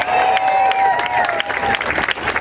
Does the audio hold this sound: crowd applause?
yes